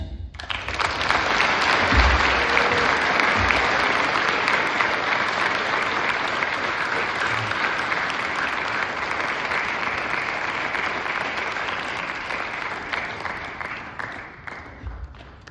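An audience applauds continuously and loudly for about fifteen seconds, a dense wash of clapping that holds steady before tapering slightly at the end.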